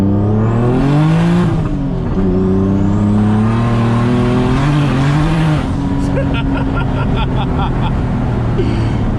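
A turbocharged BMW E30 engine revs hard and climbs in pitch as it accelerates, loud and close, with a whining turbo and a sharp pop near the end.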